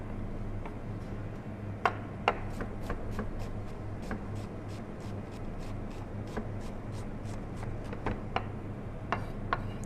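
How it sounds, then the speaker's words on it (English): Knife chopping onions on a cutting board, a steady run of crisp, evenly spaced taps, roughly two per second, close by over a low hum, with no talk. "So this is how I chop onions."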